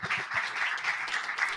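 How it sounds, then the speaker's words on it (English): Applause from an audience, a dense patter of many hands clapping at moderate loudness, heard briefly. "A round of applause, please."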